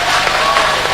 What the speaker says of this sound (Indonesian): Tepuk tangannya keras sekali ya sebelah sini nih.